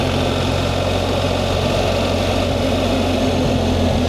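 BMW R 1300 GS Adventure motorcycle engine at a slow riding pace, a steady low rumble with continuous vibration, close and fairly loud throughout.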